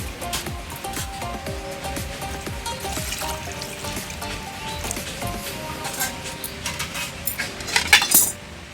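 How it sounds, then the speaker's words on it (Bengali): Water poured into a wok (kadai) while cooking a dried-fish and drumstick curry, a trickling pour with clinks of utensils against the pan, rising to a louder splash near the end. "জল দিয়ে দিচ্ছি কড়াইতে।"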